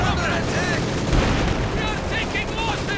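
Artillery shells and gunfire boom again and again in a Company of Heroes 2 World War II battle, with a Panzer IV in play. Dense, overlapping blasts form a constant roar while a commentator talks over the top.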